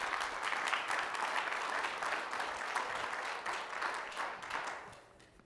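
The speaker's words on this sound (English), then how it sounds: "a round of applause" An audience at a panel event applauds the panelists, a sustained wash of many hands clapping at moderate distance that tapers off toward the end, with no voices over it.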